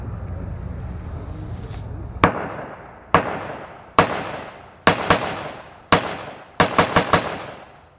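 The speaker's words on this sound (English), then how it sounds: "fire the G43, and you can see the little bit of the difference between a semi-auto and a bolt action" A Gewehr 43 semi-automatic rifle fires outdoors at a weapons demonstration, with ten sharp, loud shots in uneven spacing, several in quick bursts, each ringing out into a short echo after a steady hiss of background noise.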